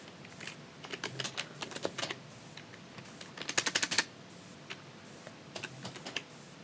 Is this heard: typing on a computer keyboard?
yes